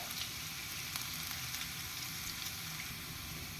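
Steady, crackling sizzle of mustard seeds frying in hot oil for tempering, continuous and close, with faint pops scattered throughout.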